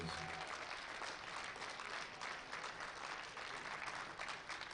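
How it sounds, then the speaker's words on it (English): Sustained applause for medal winners in the 105 kg Masters class at a USA Powerlifting Open Nationals meet, steady dense clapping from a crowd filling the hall without a break. "One more round of applause for the fellows."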